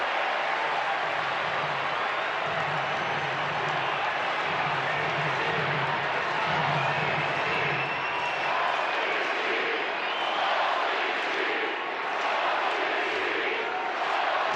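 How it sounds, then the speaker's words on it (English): Large baseball crowd at a Cubs vs Padres game with bases loaded and the score tied 3-3, a broad steady roar of cheering and murmuring that swells throughout, with no distinct individual voices standing out. "Tied at 3, and the crowd coming to life."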